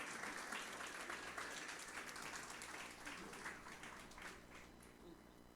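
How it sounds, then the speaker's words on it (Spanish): A church congregation applauds in unison: steady, dense clapping that fills a few seconds, heard at a distance and fairly faint, with no talk over it. "Damos un aplauso al Señor"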